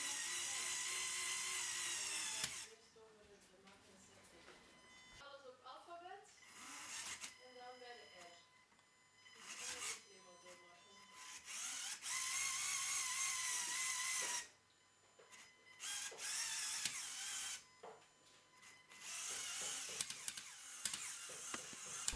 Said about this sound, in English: we activate the central linear actuator in the arm to really stretch the segments out all the way